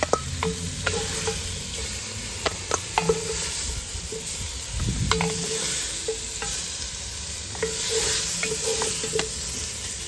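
Browning meat sizzles and fries in a pot over an open outdoor fire, with sharp metallic clinks and scrapes of stirring scattered throughout and a brief low rumble midway.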